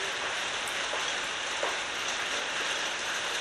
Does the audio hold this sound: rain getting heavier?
yes